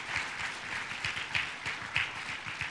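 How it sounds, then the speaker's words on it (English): An audience at a Hall of Fame event honoring football player Marshall Faulk claps in a fairly light, scattered round of applause, distinct individual claps heard at moderate distance with no talk. "How about a nice round of applause for Marshall Faulk?"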